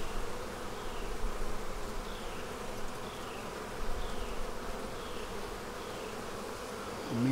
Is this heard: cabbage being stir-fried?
no